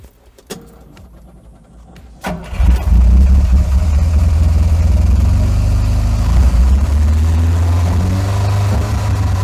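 A few sharp clicks, then the engine of a 1955 Alfa Romeo Zagato race car cranks and roars to life, settling into a loud, throaty, rumbling idle up close.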